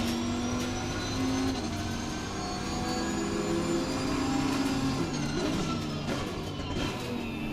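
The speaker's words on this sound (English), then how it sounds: "That Aston Martin sounds really nice, by the way, John." An Aston Martin GT racing car engine in Assetto Corsa Competizione roars at high revs, pitch climbing and dropping with gear changes, with a second engine whining alongside.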